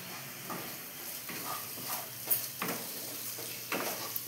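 Paneer fries in a pan with a steady close sizzle, broken by periodic scraping strokes of a spatula stirring it.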